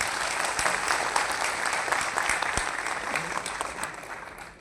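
A crowd at a state-level award ceremony in Ahilyanagar gives hearty applause for the institution's president and office-bearers, a long, even wash of clapping that slowly tapers near the end.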